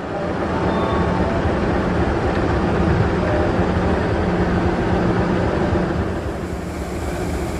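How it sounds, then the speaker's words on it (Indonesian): CC 206 locomotive hauling a special rail run as it departs Tasikmalaya station, a steady loud rumbling drone of engine and rolling stock that continues throughout and eases slightly near the end. "KLB Rel dengan lokomotif CC 2061393 di Poinduk Cirebon siap diberangkatkan dari stasiun Tasikmalaya"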